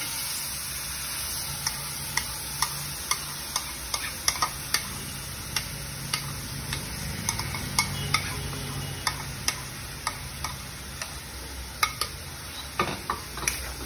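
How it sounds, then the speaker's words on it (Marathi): Spinach puree sautéing with cumin in a pan makes a soft continuous sizzle, broken by regular sharp clicks and taps of a spoon stirring against the pan, close and steady with no talking. "याला छान परतून घ्यायचं असते"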